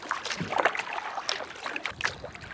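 A canoe is paddled quietly around islands on an African river where hippos live, with soft splashing paddle strokes and water dribbling off the blade in irregular bursts, close and fairly faint.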